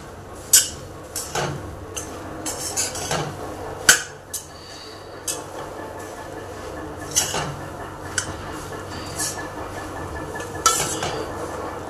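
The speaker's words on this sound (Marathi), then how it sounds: "आता हे आपण लगेच मिक्स करून घेऊया।" A spoon scrapes and clinks against a pan while rajgira ladoo mixture of puffed amaranth is stirred, irregular sharp metallic taps over a soft continuous background hiss.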